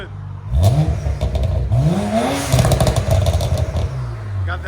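Twin-turbo BMW 335xi with a 3.0-litre inline-six, VRSF downpipe and Borla S-Type exhaust revs hard several times close by, each loud rise falling back with pops and crackle.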